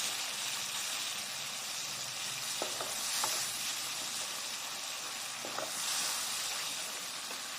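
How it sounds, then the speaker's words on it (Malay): A pan of sambal tempoyak jering fries with a continuous sizzle and hiss while a spatula stirs it, giving a few soft scraping strokes under the steady crackle. "Kita kacau lagi"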